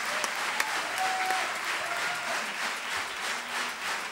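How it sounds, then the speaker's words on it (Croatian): Sustained audience applause at a live concert in a theatre, steady clapping spread through the hall with a few sharper claps and faint voices beneath, moderately loud and continuous. "Poseban aplauz za obitelj Sopranos."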